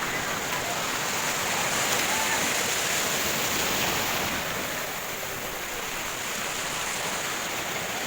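Strong waves break and wash at Pundaquit Beach in Zambales, a loud, continuous roaring surf that swells slightly and then eases, with no voices over it.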